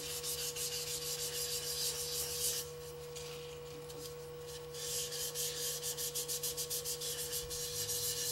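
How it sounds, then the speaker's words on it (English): Close rhythmic strokes of hand sanding rub against a wooden hollow form turning on a lathe, a low motor hum beneath, with a brief pause midway before the strokes resume. "Maybe do a little hand sanding here if I see any spirals."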